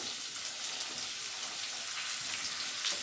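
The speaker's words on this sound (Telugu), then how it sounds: "కరివేపాకు వేసి వేయించుకుందామండి" Curry leaves and dried red chillies sizzle in hot oil in a pan, a steady, even crackling hiss that holds for a few seconds with no talk over it.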